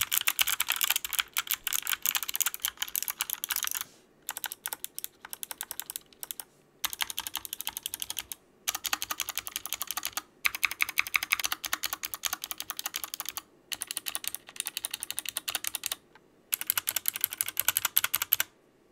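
Bursts of typing on a Glorious GMMK 60% hotswap mechanical keyboard with tactile switches, rapid crisp clacks in short runs broken by brief pauses, close and alone.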